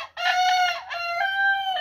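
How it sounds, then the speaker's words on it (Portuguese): A rooster crows loudly and close in a country garden with chickens, one long drawn-out call in two sustained strained phrases, standing alone with no talk. "Lá as galinhas."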